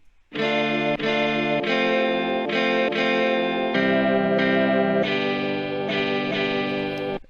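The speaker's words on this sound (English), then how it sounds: "So this is this guitar loop." A distorted, effects-heavy electric guitar loop plays rich sustained chords that change every second or so, steady and loud throughout.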